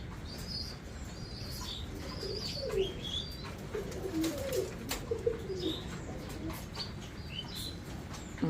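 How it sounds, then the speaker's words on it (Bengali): Pigeons kept for sale, among them Danish pigeons, coo in soft repeated warbling phrases close by, with occasional wing flutters and a steady background hiss, no talking. "এই দেখেন কবুতর"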